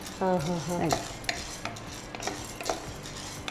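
Chana dal roasts in a pan for sweet khichdi as a spoon stirs it, giving close scraping strokes over a soft sizzle, with a brief tonal hum at the start.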